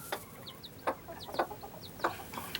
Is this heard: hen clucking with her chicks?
yes